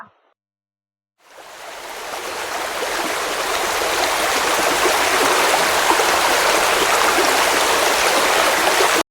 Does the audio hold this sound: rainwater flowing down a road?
yes